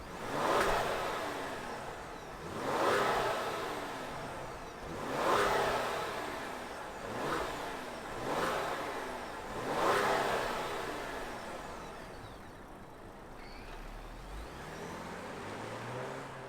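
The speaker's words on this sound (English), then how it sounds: "let's fire up this performance-oriented Explorer and hear if there's any sound out that exhaust" A 2022 Ford Explorer ST SUV revving its exhaust in five swelling pulses a couple of seconds apart, close and fairly loud, then settling to a steady idle.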